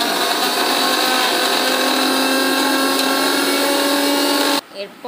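An electric mixer grinder whirs loudly and steadily for several seconds while blending salted burhani ingredients, then cuts off abruptly near the end.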